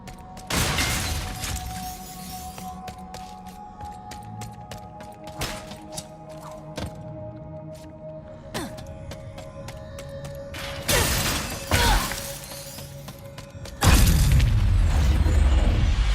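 Glass shatters in Ratchet & Clank: Rift Apart amid game combat, with sharp crashing bursts, metallic clanks and booming impacts spread across the stretch and a loud final crash near the end.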